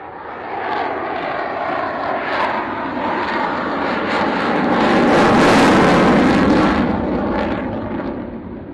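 A fixed-wing aircraft at the RAF Waddington airshow roars past with a loud, broad engine noise that swells to a peak midway and then fades slightly, with no voices.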